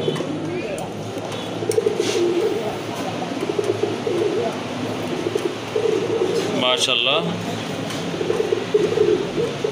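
Pigeons at a bird sale coo in a steady low murmur behind someone talking, with a brief higher chirping burst partway through.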